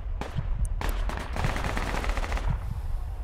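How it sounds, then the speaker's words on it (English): Gunfire in the military shooter Project Reality: loud, close bursts of sharp shots in quick succession, with dense rattling fire through most of the stretch and no voices. "I just shot the guy 2 times in the head"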